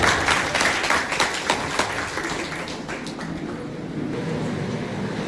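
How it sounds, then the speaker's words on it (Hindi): Crowd applause at a community association event in a hall, loud dense clapping at first that thins and fades into room noise. "जोरदार तालियों के साथ फिर से एक बार"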